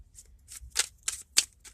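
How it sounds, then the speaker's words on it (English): Tarot cards shuffled by hand in a quiet room, a series of four or five crisp riffling bursts at an uneven pace, close and clear with no talk over them. "shuffle some cards here"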